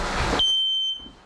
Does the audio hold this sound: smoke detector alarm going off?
yes